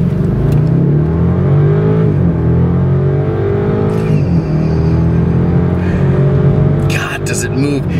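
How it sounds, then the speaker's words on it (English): Engine drone from a turbocharged BMW 650i Gran Coupe M-Sport in Sport Plus under kick-down acceleration, a steady loud hum from inside the cabin as it builds speed, with a person talking over it. "All right, here's a kick down."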